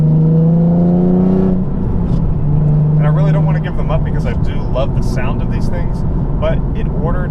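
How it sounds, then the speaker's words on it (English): A car exhaust fitted with resonated test pipes hums at idle, a steady droning tone near the microphone, while someone talks over it. "I will have to give up the resonated test pipes that I have installed, as you can hear now"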